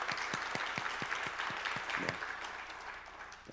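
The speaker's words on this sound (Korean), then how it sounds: "우리 하나님께 영광의 박수 올려드립니다." A church congregation at a New Year's Eve service breaks into applause, a dense spread of clapping with a few sharp individual claps standing out near the start, carrying steadily throughout.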